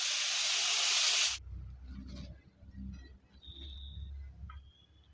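Butter sizzles loudly in a hot pan in a sharp, hissing burst that lasts just over a second and then cuts off. Only faint, scattered background sounds follow.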